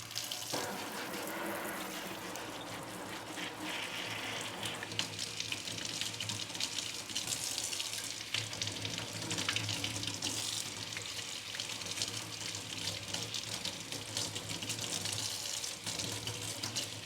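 Tap water runs steadily into a sink, rinsing the roots and soil of two variegated Alocasia plants during repotting, a continuous close hiss and splash with small shifts in flow and no talking.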